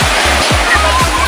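Loud rushing sea water with heavy surging waves, and a deep pulsing rumble repeating about every quarter second beneath it.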